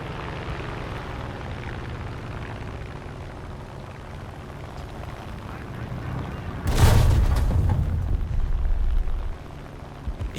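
Steady aircraft engine drone from a World War II fighter combat video game featuring an F4U-4 Corsair, broken midway by a sudden loud bomb explosion whose deep rumble lingers for a couple of seconds.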